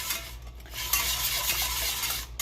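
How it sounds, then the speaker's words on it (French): Caramel with butter and whipping cream is stirred in a Tupperware pot, making a continuous close scraping swish with a light simmering sizzle and brief clinks, and no voices. "je mélange je brasse comme il faut là, mon caramel avec mon beurre et ma crème à fouetter"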